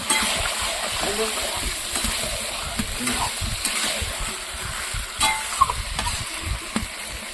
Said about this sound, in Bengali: এবার আমি মাংসটাকে বসিয়ে দিয়েছি কষানোর জন্য